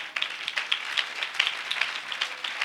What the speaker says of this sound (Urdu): اب تالیوں کی آواز کا مطلب ہے پوری روٹی اور پوری عبادت